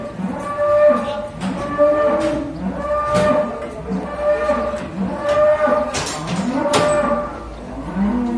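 Large cattle moo repeatedly and loudly at close range inside a dim barn, long low calls overlapping one another in a steady series.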